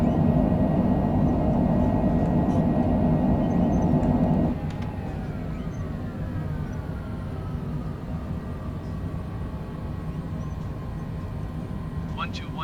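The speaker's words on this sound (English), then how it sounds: "Spoilers are up. Reversers." Cessna Citation Longitude business jet rolls out on landing at Lake Charles with spoilers up and thrust reversers deployed: a loud broadband engine roar drops sharply midway to a quieter whine with descending tones, heard from inside the cockpit.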